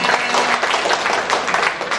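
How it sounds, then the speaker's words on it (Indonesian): Delegates applauding at the opening of a national working meeting in Malang, brisk, dense clapping from a large crowd, loud and even, with faint voices mixed in. "Sekali lagi tepuk tangan bagaimana delegasi."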